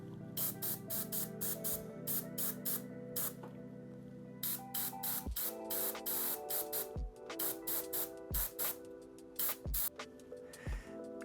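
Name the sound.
airbrush spraying blood red paint on miniature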